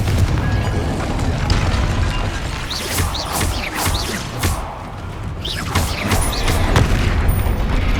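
Explosive spells in Hogwarts Legacy, cast during a fight with a troll, go off in repeated loud booms, crashes and whooshing blasts over a constant rumble of combat.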